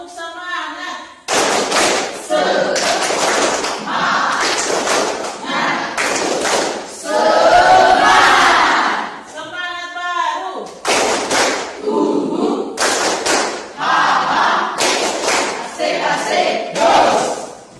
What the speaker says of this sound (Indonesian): Sekarang kita gerakan tepuk semangat dulu.